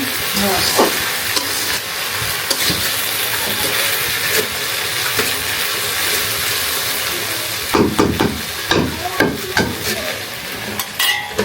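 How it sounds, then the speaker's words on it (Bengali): Jiyol fish fry in a pan in a home kitchen, a loud steady sizzle and hiss broken by stirring scrapes and clatters, growing busier near the end. "ভাজা ভাজা করবেন আম্মু ভাজি।"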